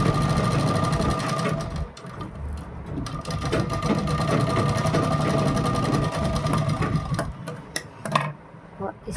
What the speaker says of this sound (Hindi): इस पे भी हम वही 1 या 2 पॉइंट छोड़ के हम यहाँ पे सिलाई लगाएंगे